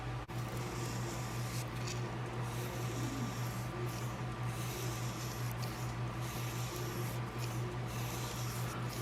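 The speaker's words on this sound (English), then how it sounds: "So here I am with 800 now, just sharpening the single bevel portion." A Havok Hoss 150 knife has its single bevel sharpened on an 800 grit stone, a soft continuous rubbing and scraping that sits close under a loud, constant background hum.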